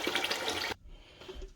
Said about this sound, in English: After 30 minutes, I just change the water one more time